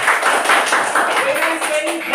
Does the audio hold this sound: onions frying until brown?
no